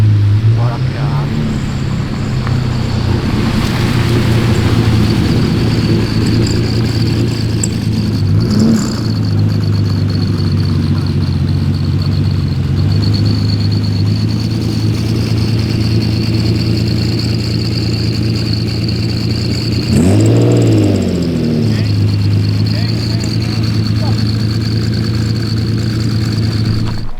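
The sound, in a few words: Lamborghini Murcielago 25th anniversary engine revving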